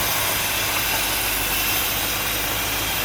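A 1964 Cadillac V8 idling after timing and dwell adjustment, a steady loud broadband engine rumble with a constant hum, close by and alone without speech.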